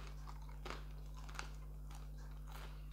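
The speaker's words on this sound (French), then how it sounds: "je vais goûter une petite flamencuche en direct" Close, quiet biting and chewing of a crispy flammekueche, a few distinct crunchy bites followed by softer rhythmic chewing over a steady low electrical hum.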